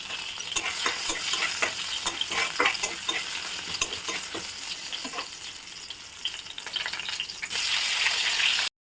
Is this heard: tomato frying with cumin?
yes